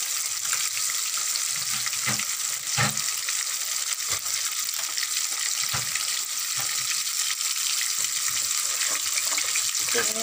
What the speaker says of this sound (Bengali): চিংড়ি মাছ দিয়ে একটু কষাচ্ছি